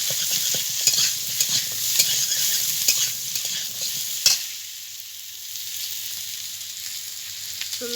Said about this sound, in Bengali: মাছ ভাজা তেলের ভিতরে ভেজে নেব